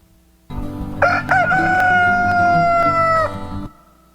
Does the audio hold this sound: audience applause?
no